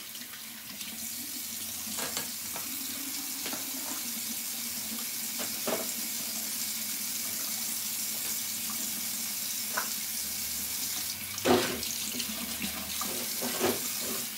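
Hot water runs steadily from a bathroom tap into a sink ahead of a shave, a constant close hiss and splash broken by a few brief clinks and knocks, with no talking.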